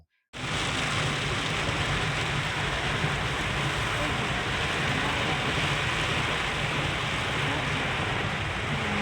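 Steady heavy unseasonal rain pours continuously, a dense even hiss that starts abruptly after a brief silence and holds constant throughout.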